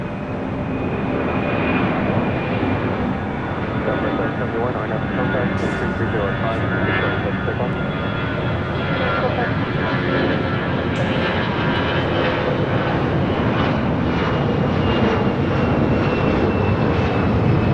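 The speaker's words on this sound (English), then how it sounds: "It's an A319." Airbus A319 jet airliner at LAX airport at night, a loud sustained engine roar that stays steady and close across the whole stretch, broad and rumbling, with a voice talking over it.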